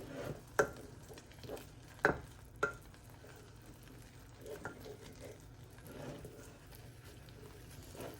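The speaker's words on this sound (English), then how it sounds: "This is where you add your 1 egg white and then stir it right away" Oatmeal cooking down in a pot is stirred right after an egg white goes in, with a quiet spoon scraping and a few sharp knocks against the pot over a faint simmer; no talking.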